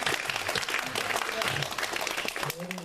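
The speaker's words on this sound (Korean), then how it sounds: "우리 경례 박수 한번 해주세요" Church congregation applauding during a sermon, a sustained round of clapping with a voice speaking over it partway through.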